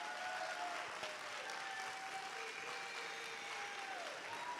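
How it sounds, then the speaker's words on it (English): An audience at a church Black History event applauds steadily, a dense sustained wash of clapping from a large crowd with a faint voice underneath. "Can you give them a round of applause?"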